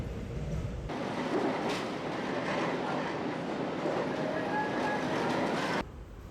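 Riding inside a Seoul metro train in the morning, a steady rumbling roar of the car in motion fills the clip, then drops abruptly near the end.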